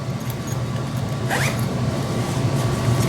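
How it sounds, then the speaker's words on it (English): A quick zipper pull on the small side pocket of a Fjallraven Splitpack or Osprey Sojourn Porter travel backpack, one short rasping zip heard close up against a steady low hum. "There's a little zippered pocket on the side here."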